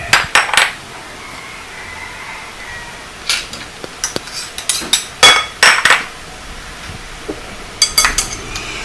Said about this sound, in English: So you start by mixing all the dry ingredients together.